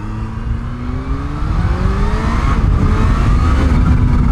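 A 2020 Kawasaki ZH2 supercharged street bike roars loudly on the move, its engine climbing steadily through the revs in a long, rising pull over rushing wind noise.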